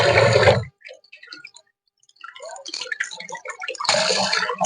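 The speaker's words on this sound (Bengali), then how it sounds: "ঠান্ডা জল দিয়ে সুন্দর করে ধুয়ে নিয়েছি" Cold water rinses boiled roti strips in a basket. A loud splashing pour starts, then gives way to scattered drips and trickles, and the full rush returns at the end. No one talks.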